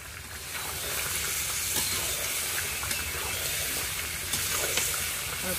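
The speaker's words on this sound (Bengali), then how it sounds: "আলুটা দিয়ে ভালো করে কষিয়ে নেব" Potatoes fry with spices in a pan, a continuous close sizzle with light stirring scrapes and occasional soft pops.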